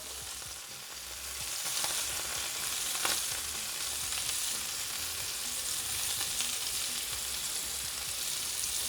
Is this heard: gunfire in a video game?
no